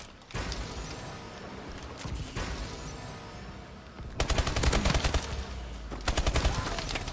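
Suppressed burst-fire gunshots in Call of Duty Advanced Warfare ranked multiplayer, rapid clustered shots repeating through the clip, growing denser and louder toward the end amid game noise.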